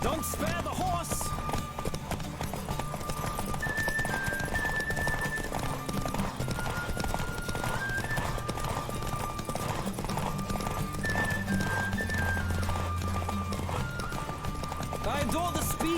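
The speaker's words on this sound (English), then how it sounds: "Don't spare the horse!" Rapid hoofbeats from a racing horse in The Witcher 3 carry on without pause, with noticeable whinnies, all set against steady background music and some talking.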